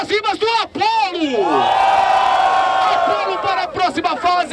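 A crowd at a street rap battle roars and whoops for a rapper, a loud sustained wave of cheering and shouting that swells after a host yells over a microphone.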